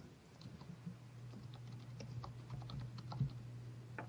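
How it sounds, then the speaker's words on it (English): Steady rapid typing on a computer keyboard sitting too close to a microphone during a radio show, continuous close key clicks over a low constant hum. "I hear typing."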